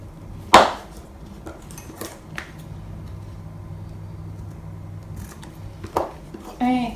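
Scissors trim paper while a mini album cover is assembled: a couple of crisp, close snips stand out over a quiet room hum, with a brief handling rustle near the end.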